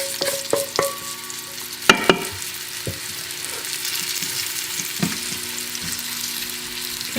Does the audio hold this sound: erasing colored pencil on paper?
no